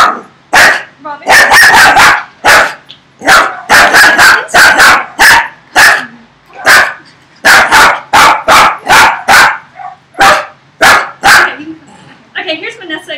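A two-year-old dog named Robin barks repeatedly in a fast, loud, close series of sharp barks with brief pauses, a few softer yips near the end.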